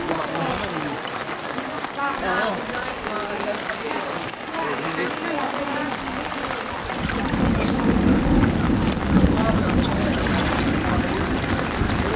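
A motorboat engine drones loudly amid wind and splashing floodwater, growing stronger and rougher partway through, with voices talking over it.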